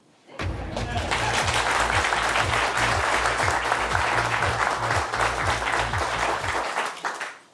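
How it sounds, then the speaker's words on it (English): Loud audience applause fills a hall at the Liberal Democrats' 2024 general election manifesto launch, a dense steady roar of clapping that swells in quickly, holds for several seconds and tapers off at the end. "I was waiting for the applause to come down there"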